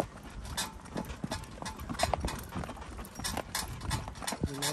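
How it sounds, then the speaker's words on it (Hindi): Steady, close clip-clop of the young filly Nikky's hooves as she pulls a buggy, with a brief creak of the cart near the end. "मैं तो फर्स्ट टाइम इस घोड़ी के साथ बग्गी में बैठा हूँ"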